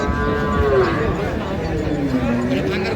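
A cow lows in a long drawn-out moo at a busy rural cattle market. The call is loud and close, with market chatter and people talking underneath.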